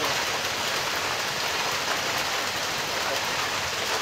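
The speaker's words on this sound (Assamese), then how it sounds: "বৰ্তমানো অব্যাহত আছে ধুমুহা বৰষুণ" Heavy rain pours down during a storm in Barhampur, Assam, a dense, unbroken hiss at a steady loud level throughout with no voices.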